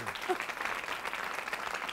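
A studio audience applauds a guest on a live Peruvian TV talk show, with steady dense clapping that carries on for the full two seconds under a faint voice.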